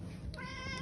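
A cat meows once, close by, a short voiced call rising out of steady background noise partway through.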